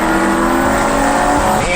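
A procharged Ford Cobra with a 4.6 engine, a loud steady engine drone that climbs in pitch as it revs near the end, close to the microphone, with a voice talking over it.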